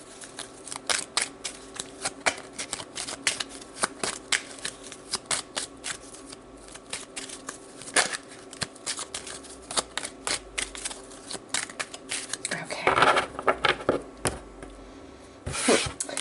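Tarot cards are shuffled by hand in bursts of crisp riffling and slapping snaps, close and fairly loud, with irregular pauses between handfuls and no talk.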